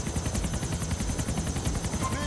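A helicopter in the final mission of the GTA IV video game gives a rapid, even rotor chop that pulses throughout, loud and close, over a dense background rumble of action.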